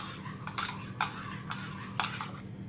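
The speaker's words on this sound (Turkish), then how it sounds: "güzelce karıştırıyorum." A spoon stirs börek sauce with mineral water in a bowl, tapping and clinking against the sides in a steady rhythm of sharp, close taps about every half second.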